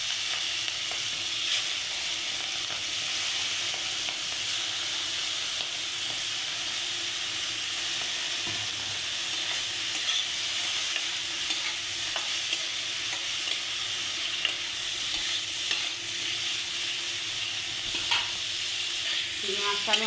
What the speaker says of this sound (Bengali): দেখো বন্ধুরা, তেলটা আমার গরম হয়ে গেছে। এবার আমি চিংড়ি মাছগুলো ছেড়ে দেবো।